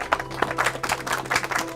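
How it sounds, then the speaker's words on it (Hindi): A small gathering at a village panchayat meeting claps, a short burst of scattered, uneven hand claps from several people nearby. "ताली बजाइए"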